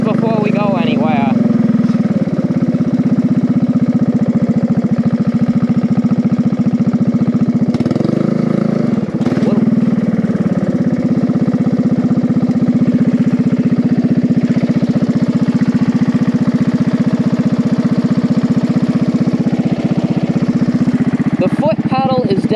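A homebuilt mower's small engine drones steadily while being driven, a continuous loud low hum that wavers slightly in pitch, with brief clatters and a voice speaking over it.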